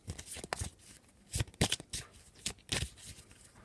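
A deck of Petit Lenormand oracle cards being cut and shuffled close by, with several quick riffling bursts and soft slaps, fairly quiet and with no talking.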